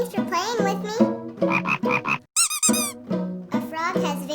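A cartoon frog croaking, a quick run of high wobbling croaks set between stretches of a cheerful animated voice talking.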